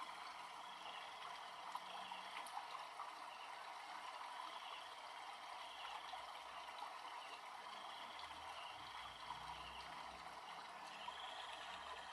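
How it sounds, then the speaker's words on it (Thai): A small waterfall flows in front of a cave at a temple in the hills, heard as a faint, steady watery hiss with soft trickling and no other clear sounds. "มีน้ำตกหน่อยๆไหลลงมากครับ"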